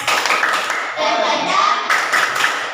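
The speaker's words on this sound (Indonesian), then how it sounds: "kita tepuk semangat dulu ya" Elementary school children in a classroom perform a rhythmic spirit clap, quick loud patterned clapping with young voices chanting along in unison, close and energetic throughout.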